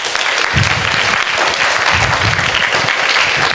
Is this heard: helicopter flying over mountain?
no